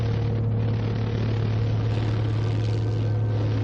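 A small private propeller plane losing altitude fast drones with a loud, constant engine hum and steady propeller buzz, close and unbroken, with rushing air over the top.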